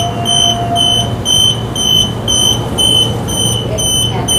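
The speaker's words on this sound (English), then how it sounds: "Doors closing." Train door-closing warning beeps sound on a Perth suburban train on the Claremont to High Wycombe line: a loud, repeated high tone pulsing at a steady rhythm, with a low hum underneath.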